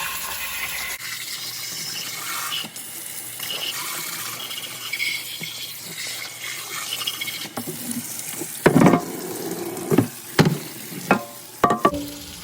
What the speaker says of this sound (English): I just sprayed it on, let it sit, and now I'm rinsing it with hot water